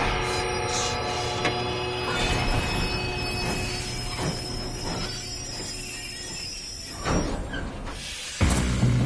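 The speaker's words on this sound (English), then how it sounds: "We have to stop this train." Train in Red Dead Redemption 2, loud squealing wheels and rumbling railcars with a horn-like tone, continuous and close throughout, ending with a sudden clank.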